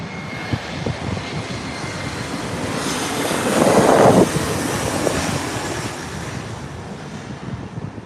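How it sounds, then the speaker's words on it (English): A Delta airliner arriving to land at LAX, heard as a steady distant jet roar under wind noise that swells briefly in the middle and then fades, with no talk. "there's an arrival here, a Delta flight coming in."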